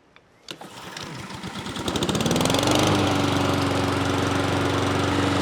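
Pull-start gas lawn mower engine cranking and catching, then settling into a loud, steady idle that rises toward full speed, close up with no talk.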